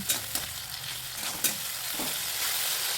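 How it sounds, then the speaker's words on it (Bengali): Chopped tomato sizzles steadily in a hot pan for a vegetarian dish, with a few sharp clicks and scrapes of a spoon stirring it, all close and continuous. "একটা টমেটো কুচি দিয়ে দিলাম। দিয়ে দেওয়ার পর টমেটো কিছুক্ষণ নাড়াচাড়া করে নেব।"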